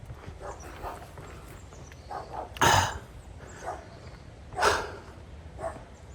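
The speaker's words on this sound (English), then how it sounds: "hello doggy, wherever you are" A dog barks a few times outdoors at a moderate distance, two stronger barks and several softer ones spread across a quiet walk, with faint ambient noise and no talking.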